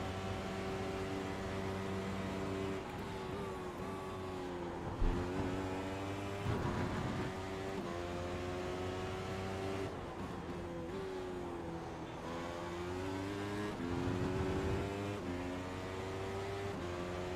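A race car engine in a sim racing game drones steadily through a lap, with rising and falling harmonic pitch as it revs up and down through the gears, loud and continuous with no talking.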